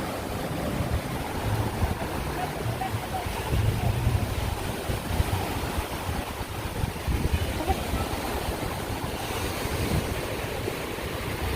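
Ocean surf at a beach in Boracay, a continuous broad wash of waves with steady wind noise across the microphone, and people talking faintly in the background.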